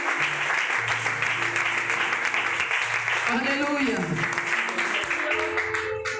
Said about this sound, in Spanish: Dele ese fuerte aplauso a él.